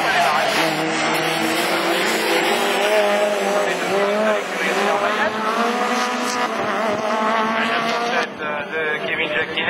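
A rallycross race car at Lessay revving hard and pulling away, a loud close engine whine rising and falling through gear changes with tire noise, a commentator talking over it throughout.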